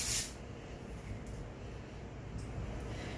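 A short, hissing burst of texture spray from a targeted nozzle onto dry hair at the crown, loud and close at the very start, then fading into faint room quiet.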